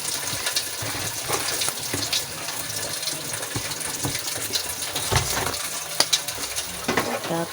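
Pansit noodles dropped into a pan with sardines give a dense, crackling sizzle with scattered clatters and bumps, staying loud and busy throughout.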